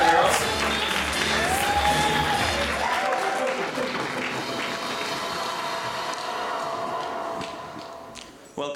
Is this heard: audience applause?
yes